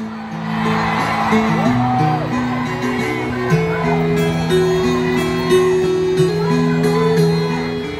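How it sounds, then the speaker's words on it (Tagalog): A large crowd at a political solidarity rally in Davao shouts and cheers loudly and continuously, with voices whooping and chanting together in a dense, sustained roar. "Isang malaking sigaw!"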